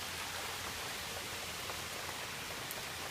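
Rain coming down outdoors in Missouri as a dense, steady hiss, moderately loud and unbroken for a few seconds, with faint drop ticks and no talking.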